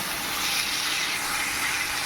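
Masala with tomato for a spicy mushroom curry frying in a pan, giving a steady, even sizzling hiss throughout with no talk.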